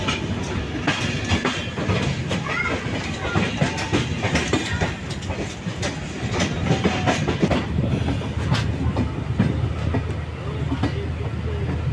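Kurla Express passenger train running on rails between Coimbatore and Mumbai LTT, a steady loud rumble with rhythmic clickety-clack of wheels over rail joints throughout, no talk.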